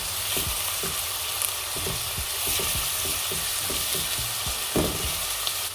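Onions and ginger garlic paste sizzling steadily in a pan for rajma, with a constant loud frying hiss broken by repeated scraping stirs, no voices.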